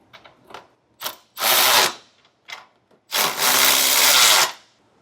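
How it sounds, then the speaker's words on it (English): A 3/4 inch socket spins trailer hitch bolts snug during a Class III hitch installation on a 2024 Nissan Rogue, heard as a few short ratcheting clicks and two longer bursts of grinding turning, close and loud without speech. "Now we'll take a 3/4 inch socket and get these snugged down."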